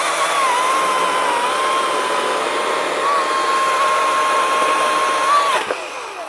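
An EGO 56V 20-inch battery chainsaw cuts into a tree, its bucking spikes biting the trunk, giving a steady, loud, high electric whine that holds evenly for about five seconds before the motor cuts off near the end.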